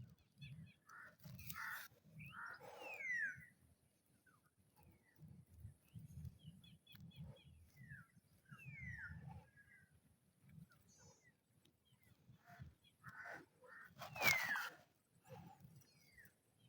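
Crows call in short, harsh caws near a Tabon bird nest, heard faint and intermittent over a low rumbling background with a few louder bursts.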